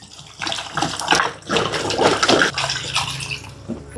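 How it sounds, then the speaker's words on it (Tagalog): Water poured into a cooking pot of pork, kadyos beans and jackfruit at an outdoor cooking setup, a steady gushing splash lasting several seconds, close and fairly loud. "Lagyan natin tubig."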